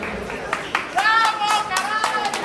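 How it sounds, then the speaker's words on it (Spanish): Sparse hand claps from a party crowd at a grupera band anniversary show, a few scattered claps under voices and shouts in the room. "¡Fuerte el aplauso!"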